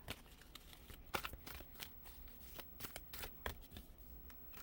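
A deck of tarot and oracle cards is shuffled and drawn in a quiet room. The snaps and riffling flutters come in close, irregular bursts.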